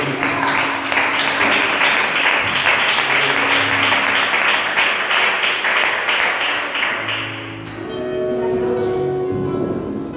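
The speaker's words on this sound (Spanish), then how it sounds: "¿Cuántos dan un fuerte aplauso a nuestro Dios?" Church congregation gives a strong round of applause to God, dense clapping for about seven and a half seconds, then fading into quieter sounds with a sustained tone.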